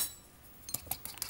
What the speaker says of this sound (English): A small bit of ground cinnamon, and whisk together